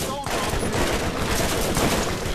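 SMG fire in the Borderlands video game: a dense, continuous rattle of rapid shots, loud and close, with busy game sounds beneath.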